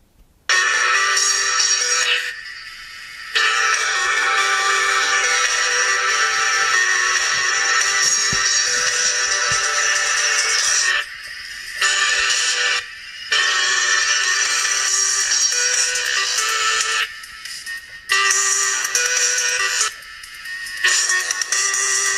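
A Sigma X-Treme PQ38 smartphone plays its ringtone at maximum volume about 20 cm from the microphone: a bright, thin electronic melody that runs steadily with a few short pauses, with no one talking.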